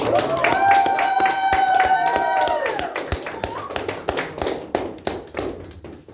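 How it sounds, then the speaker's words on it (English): Wedding guests clap at a reception, many hands at first under a sustained sung or played tone, then thinning into scattered individual claps that fade out. "Guys, let's give them a big round of applause."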